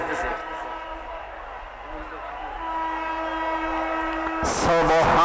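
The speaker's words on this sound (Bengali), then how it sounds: "সাবধানে থাকবেন, ট্রেন আসতেছে।" An approaching train sounds a long, steady horn for several seconds, loud and close. A voice starts talking right at the end.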